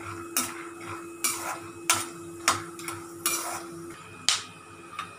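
Peanuts are stirred in hot oil in a pan for murmura chivda: a spoon scrapes and clatters in about eight separate strokes over a soft sizzle, close up with no talking.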